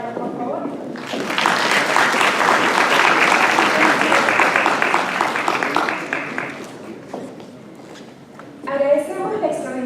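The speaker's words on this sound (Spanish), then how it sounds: "Palmas, por favor." Audience applause at an academic family-law conference rises into a loud, sustained burst of clapping, fades gradually, and gives way to a speaker's voice near the end.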